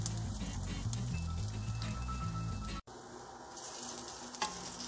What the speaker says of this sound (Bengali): হালকা একটু ভাজা হওয়া পর্যন্ত আমি অপেক্ষা করব।